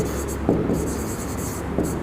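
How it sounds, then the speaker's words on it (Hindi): Chalk or marker writing on a board during a biology lecture, a soft steady scratching over roughly two seconds with a couple of sharper taps, set against faint room noise and no talk. "यहाँ पे लिखेंगे चेकिंग द एक्सपेरिमेंट"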